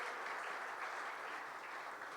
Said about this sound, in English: one more round of applause for our 2025 Ageless Awards sponsors and our winners, all our supporters.